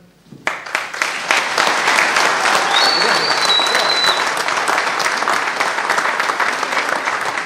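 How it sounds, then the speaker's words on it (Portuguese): Audience applause at a traditional carnival performance, starting abruptly and holding as a loud, dense, sustained wash of clapping with crowd noise and a brief whistle. "As palmas."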